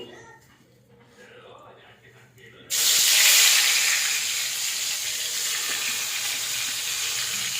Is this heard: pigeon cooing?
no